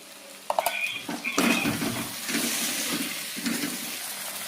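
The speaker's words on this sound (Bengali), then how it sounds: "এবার পরিমাণ মতো জল দিয়ে দেবো" Water is poured into a pan of spiced potatoes for a pomfret fish curry, a splashing gush after a few utensil clinks, then a softer bubbling wash close by.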